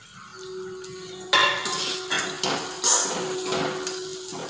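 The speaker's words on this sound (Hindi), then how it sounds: "पाँच मिनट तक इसी तरह चलाते रहेंगे।" Spoon or spatula scraping and clinking in a pan while poha is stirred on a gas stove, a few louder knocks among steady soft scraping, close and alone.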